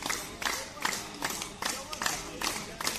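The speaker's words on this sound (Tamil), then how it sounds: "அனைவருமே கைதட்டலாம்." Hands clap in a steady, even rhythm, about two claps per second, each a sharp nearby burst during a clapping-therapy exercise.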